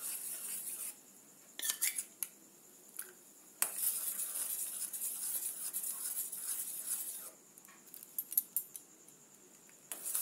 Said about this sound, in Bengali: দেখুন কর্নফ্লাওয়ারটা আমি নেড়ে যাচ্ছি